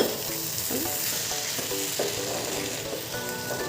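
Bori and spices sizzle steadily in a hot pan while a spoon stirs them, with scraping knocks against the pan bottom and a continuous close, moderately loud frying hiss.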